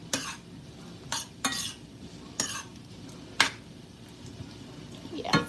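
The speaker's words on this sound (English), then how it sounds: "let me stir The vegetables" Vegetables for curry chicken being stirred in a pot, a handful of sharp utensil scrapes and clinks at irregular intervals against a quiet background.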